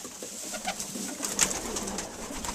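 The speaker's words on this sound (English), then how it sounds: "Here's some of my other cockbirds here." Breeding pigeon cocks coo steadily at close range, soft rolling calls repeating over a light indoor hum.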